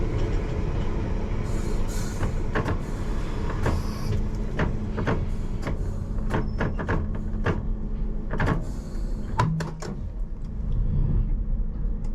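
A London Underground Piccadilly line train running on the Northfields to Earls Court route, heard from the cab with the offside door open: steady loud rumble and wind rush, broken by sharp rail clicks and clunks throughout.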